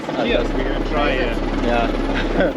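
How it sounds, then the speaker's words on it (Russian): A helicopter circles overhead near a fire, its rotor throbbing loud and steady throughout while people talk over it. "вертолет тщетно кружил вокруг нас, не зная, чем нам помочь"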